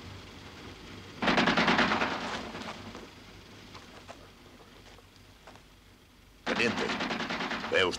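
Machine-gun fire from the 1980 desert war film about the Lion of the Desert comes in two loud, rapid bursts, separated by a quieter gap with faint voices and background noise.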